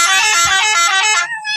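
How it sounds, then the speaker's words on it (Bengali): Horn of a cargo truck on the road, a loud, close, sustained blast of just over a second, then a short, quieter second tone. "তুই হর্ন বাজাবি"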